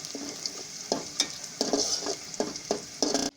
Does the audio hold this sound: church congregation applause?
no